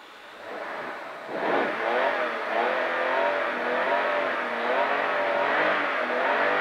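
A vintage rally car revs and accelerates at the start of a rally stage on Col de l'Epine, Faverges. Its engine idles, then climbs hard and stays loud and close, with rising and falling pitch throughout.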